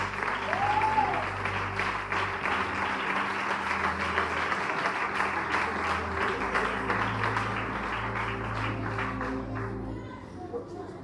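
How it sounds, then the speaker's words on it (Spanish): Congregation applause at a Sunday church service in Salamanca, a dense, steady wash of many hands clapping for about ten seconds, fairly close and full, with a low hum underneath and tapering slightly at the end. "Un aplauso en la palabra de Dios con nosotros."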